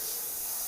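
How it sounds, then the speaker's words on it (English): A can of spray paint gives a short, steady, close hiss of about a second, with no voices. "I'll actually just go in and spray the bridge of his nose,"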